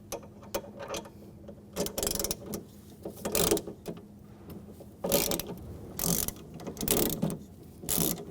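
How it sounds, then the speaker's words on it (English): Rapid ratchet clicking in repeated bursts as an E12 socket loosens a bolt on a 2006-2010 BMW 550i during front window regulator work; close, fairly loud, with short pauses between strokes and no talking. "We're going to use an E12 socket. Loosen up that bolt."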